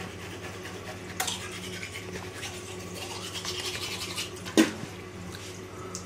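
Cheap manual toothbrush scrubbing teeth in a Barcelona setting, a soft continuous scratchy brushing with a sharp knock near the end, fairly close and quiet.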